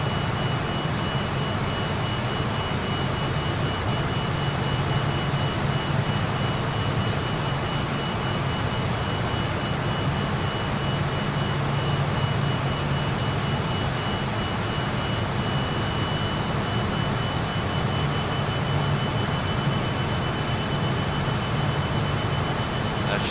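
Fokker F28-4000 jet engines in a flight simulator, a steady broadband roar with a faint high whine, constant and even throughout without any break.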